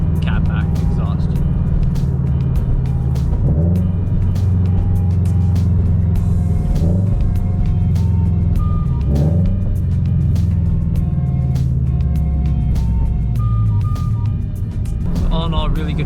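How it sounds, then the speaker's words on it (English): Catless Subaru BRZ exhaust with Gruppe-S headers, a resonated front pipe and a 3-inch Gruppe Revolution catback gives a loud, steady, deep rumble throughout, with the engine rising and falling in pitch as it revs while driving on a backroad. "makes one of the deepest, most rumbly exhaust setups you could have"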